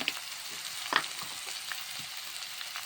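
Taro stems (ghatkol) frying with onion and garlic in a pan, a steady close sizzle with stirring scrapes and a sharper clatter about a second in, no talking.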